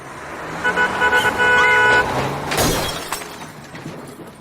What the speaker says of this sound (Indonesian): tidak sengaja dia menyenggol rak botol di supermarket demi menghindari mobil yang ngebut